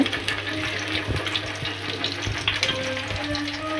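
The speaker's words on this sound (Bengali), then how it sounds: "এখানে মাছ ভাজা হচ্ছে" Fish sizzles and spits in hot oil in a pan on a home kitchen stove, a steady crackling fry with occasional louder pops and clinks of stirring, running alone without talk.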